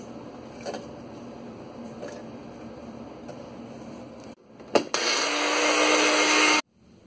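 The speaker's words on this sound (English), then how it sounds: "I am blending this now" After quiet room noise and a few clicks, a blender grinding cauliflower florets into a rough powder starts up close and loud, whirring steadily for about two seconds, then cuts off abruptly.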